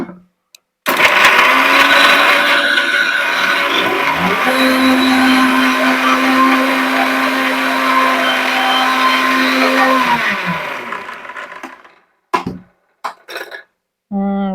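A loud mixer grinder whirs steadily for about ten seconds grinding green chutney into a fine paste with water, its pitch dropping as it winds down, followed by a few short clattering bumps and a brief spoken phrase.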